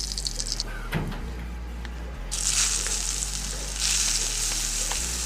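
Chopped onions frying in mustard oil hiss and sizzle steadily in a hot pan, the sizzle swelling louder as the onions settle, with an occasional stir, close by and with no talk.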